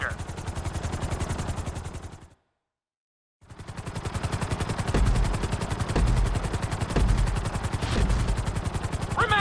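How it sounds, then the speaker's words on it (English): A helicopter's rotor in the game GTA V's flight school drones steadily with rapid chopping pulses, cutting out briefly to silence before resuming with a few heavier thuds mixed in. "you'll be required to safely land your helicopter"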